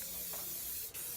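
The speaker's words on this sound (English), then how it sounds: "you're going to want to give it a good coat of hairspray to hold that glitter on" Hairspray is sprayed over a glittered high bun updo in one loud, close, continuous hiss, with a brief break just before the end.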